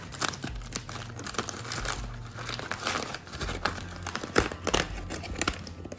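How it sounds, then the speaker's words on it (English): Foil or butcher paper being crinkled and torn open from around a smoked pork butt off a pellet smoker, close irregular rustling bursts throughout. "it has been 30 minutes and we are going to unwrap it."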